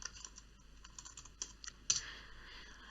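Keystrokes from someone typing a SQL query on a computer keyboard: soft, scattered clicks at a moderate distance, with one sharper, louder keypress partway through and no speech.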